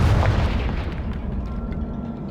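A Confringo blasting curse in Hogwarts Legacy goes off as a heavy booming explosion, with a deep rumble that decays slowly over a couple of seconds, loud and close.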